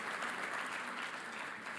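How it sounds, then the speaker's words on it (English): Steady applause from a crowd, continuous clapping at an even level throughout with no pauses. "Give your guys yourselves a round of applause"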